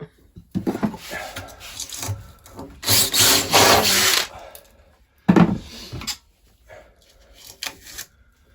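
An electric drill bores through the wall of a narrowboat under construction, with several loud bursts of grinding separated by quieter pauses and handling knocks.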